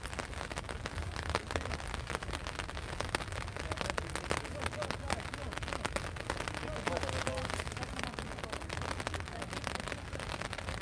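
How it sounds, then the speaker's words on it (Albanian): Steady rain patters across a surface outdoors in Krujë, Albania, a dense, continuous hiss with scattered sharper drops, fairly close and even in loudness. "Tashme këtu jashtë ka filluar shiu."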